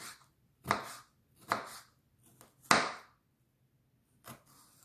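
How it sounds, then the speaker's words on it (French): A knife chops a bell pepper on a cutting board, first into strips and then into small cubes, in a few sharp, separate strikes spaced about a second apart with quiet gaps between them. "nous allons les couper d'abord en lamelles, comme ceci, et ensuite en petits cubes"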